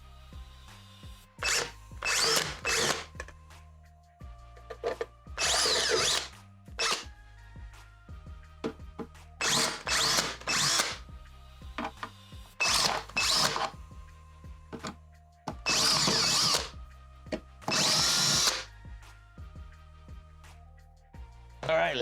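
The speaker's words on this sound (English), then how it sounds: "I may have to drill out some holes" A power drill runs in repeated short bursts of one to two seconds each as it enlarges screw holes in the case of a Mojotone British 800 amplifier kit, with quiet pauses between bursts.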